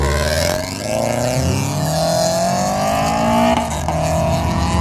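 Cars, including a Toyota FRS and a Hyundai Genesis, rev hard and pull away from a car show, their engines rising and falling in pitch as they accelerate past close by.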